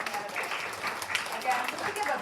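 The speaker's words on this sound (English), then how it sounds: "round of applause to all these candidates." Applause for candidates at a student presidential debate, a short burst of mid-level clapping from the audience with voices mixed in.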